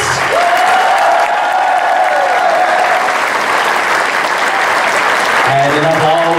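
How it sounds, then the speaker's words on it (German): A Christmas show audience gives loud, sustained applause for the Kernkids, with a steady held tone over the clapping and voices coming in near the end. "Einen super, super, super Riesenapplaus für die Kernkids."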